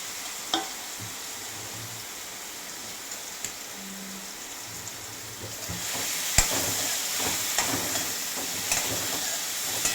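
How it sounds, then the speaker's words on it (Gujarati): Ripe bananas go into a pan of sizzling tempering, a soft steady hiss and sizzle with faint stirring clinks and a slightly louder burst of frying partway through, fairly quiet and with no talking. "વઘાર થઈ ગયો છે એટલે હું કેળા એડ કરી દઈશ"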